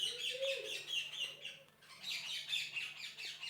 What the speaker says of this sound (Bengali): ঘুঘু পাখি ডাকছে গাছে।